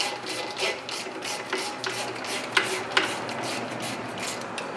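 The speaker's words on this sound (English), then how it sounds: "And now you're going to tighten up both bolts" A ratchet clicks in quick repeated bursts while tightening the front brake caliper bolts on a 2007-2014 Ford Edge, steady mechanical ticking close by with a few sharper metallic knocks.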